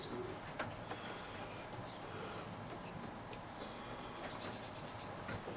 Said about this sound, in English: This is a scene inside Mark's young bird loft